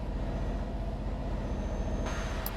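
Scania truck in a truck simulator game, a steady low diesel engine drone running throughout with a sharp hiss of air brake release near the end, loud and close with no talk.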